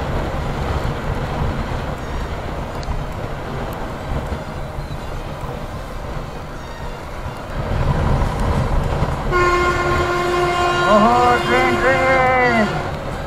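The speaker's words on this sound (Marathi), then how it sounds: "ट्रेन आपल्या मालगाडी चालली आहे" A freight train rolls past a Mumbai–Goa highway ride near Parshuram Ghat and Chiplun, a steady loud rumble of wagons under road and wind noise, then a long wavering horn blast near the end.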